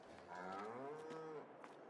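Cows moo in the Farming Simulator 22 video game, one long drawn-out low call that rises and falls, heard clearly with no voices over it.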